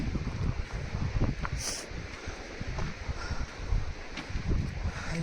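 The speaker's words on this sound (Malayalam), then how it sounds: "തണുത്ത കാറ്റ്." Cold wind buffets the microphone on a rocky Himalayan trail near Thukla on the way to Everest Base Camp, a continuous rough low rumble with gusts rising and falling.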